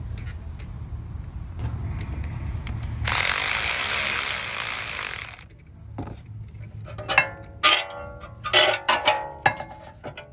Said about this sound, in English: You tighten the bolt.